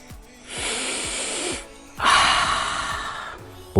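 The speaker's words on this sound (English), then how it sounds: "Now we're gonna sniff it." A person takes two long, breathy sniffs at a new Samsung Galaxy Note 10+ phone, close to the microphone, with a short pause between the inhales.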